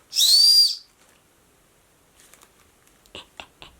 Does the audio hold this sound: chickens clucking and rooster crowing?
no